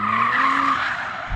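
Tyres on a BMW M3 Competition or Audi RS4 Avant squeal as the car slides out through a corner under throttle, a loud sustained skid over engine noise, fading slightly toward the end.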